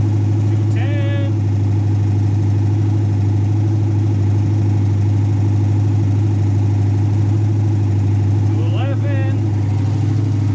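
An LS-swapped Ford Mustang V8 idles steadily with a loud, deep, rhythmic rumble throughout, while brief voice-like tones cut in twice over it.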